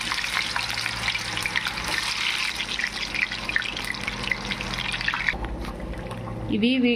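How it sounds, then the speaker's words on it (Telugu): Potato pieces dropped into hot oil on high flame, a dense, steady crackling fry sizzle throughout that thins out near the end. "నూనె తీసుకొని హై ఫ్లేమ్లో పెట్టుకొని బంగాళదుంప ముక్కల్ని నూనెలో వేసుకుందాం"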